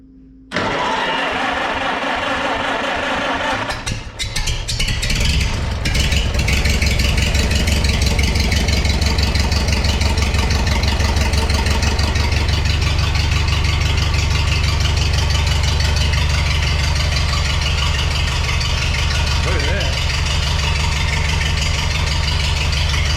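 A Farmall H tractor engine cranks a few seconds, catches and settles into a steady, loud, rumbling idle that runs on without talk.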